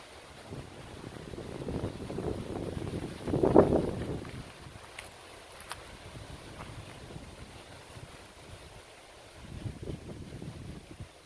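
Strong wind gusting over a Philippine coastline, heard as a faint, low, rumbling roar that swells in uneven gusts and drops back, with no voices.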